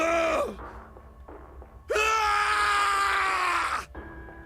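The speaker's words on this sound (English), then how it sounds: "His scream echoed through this incineration chamber, full of rage and despair." A character's voiced scream of rage and despair in an incineration chamber from the video game Zero Escape: 999, a short cry followed by a longer sustained, loud, strained scream that cuts off abruptly.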